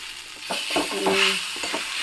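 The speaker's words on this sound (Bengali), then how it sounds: "এই যে ডালটা একটুখানি মশলার সাথে কষিয়ে নিচ্ছি" Mung dal being fried with spices in a pan for vegetarian khichdi, a moderate sizzle with stirring scrapes and a few utensil clinks, no talking.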